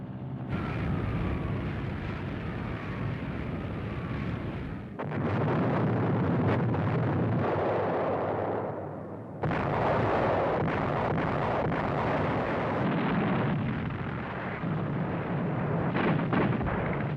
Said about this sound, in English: In desperation, the Allies bombed the historic monastery on the summit.